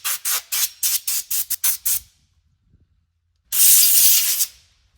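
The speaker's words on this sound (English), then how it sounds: "we're just going to take the air compressor and we're just going to try to clean out some of this sawdust" An air compressor nozzle blows sawdust out of a Craftsman 18-inch chainsaw: about nine quick, loud hissing bursts in a row, a short silence, then one longer sharp blast, close up with no talking.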